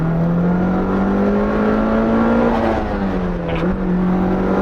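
A Mitsubishi Lancer Evo MR accelerating hard up a highway on-ramp, loud turbocharged engine note climbing steadily in pitch from close inside the cabin, with a brief dip near the end as a gear changes.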